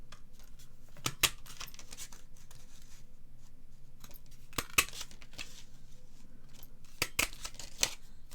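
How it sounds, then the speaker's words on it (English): Several crisp snips and clicks from a butterfly punch cutting paper butterflies for a triple panel fold card, coming in small clustered bursts around one, five and seven seconds, with quiet rustling between them and no talking. "I'm just going to cut 3 of those beautiful butterflies out."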